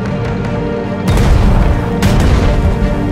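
In the Strategic Mind: Blitzkrieg video game, a tank attacks enemy artillery with a loud, deep boom, then a second heavy blast rolls out about a second later and rumbles on.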